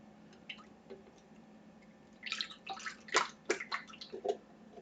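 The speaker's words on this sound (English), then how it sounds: "pour our goop in there." Thick goop poured into a Magic Pot, a run of wet squelching glugs and drips, close and irregular, beginning softly and growing denser in the second half.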